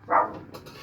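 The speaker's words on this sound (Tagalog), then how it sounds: "aso sa bahay, ah. Ang cute na doggy." A dog at a house gives one loud close bark, followed by quieter rustling and faint background noise.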